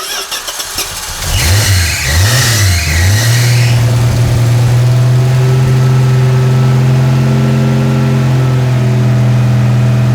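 A turbocharged six-cylinder engine is cranked and fires, revving briefly before settling into a loud, steady idle close by, with no talk over it.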